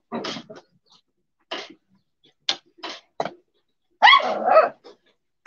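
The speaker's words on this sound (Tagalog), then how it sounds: "Ano ba tong aso na ito?" A dog gives a series of sharp, irregular barks close by, separated by short silences, ending in a louder, longer bark.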